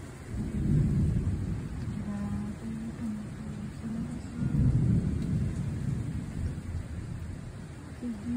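Heavy rain pours steadily through a thunderstorm in hot weather as deep thunder rumbles swell and fade twice, loud and rolling, with a faint tone over the downpour.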